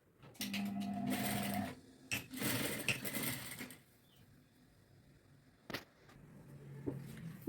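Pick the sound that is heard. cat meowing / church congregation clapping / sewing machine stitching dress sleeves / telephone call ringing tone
sewing machine stitching dress sleeves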